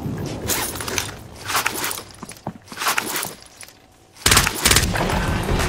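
Small-caliber gunfire in a combat video game, loud bursts of shots crackling throughout, with a dense, sharp volley erupting near the end.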